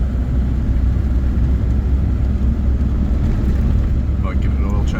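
A Citroën DS engine runs steadily as a loud, continuous low rumble with wind noise over it, heard from inside or right beside the car, with no talking.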